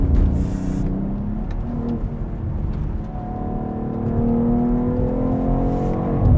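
A 2022 BMW X3M Competition, a rear-wheel-drive-biased all-wheel-drive SUV, heard from inside as it powers through a corner, its engine note a low steady drone that rises and swells toward the end.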